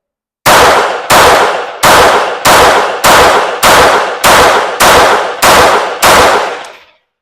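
Ten sharp Glock 44 pistol shots at an outdoor range, fired in a steady, evenly spaced rhythm about two-thirds of a second apart, each loud crack trailing into a brief decay, with no talking.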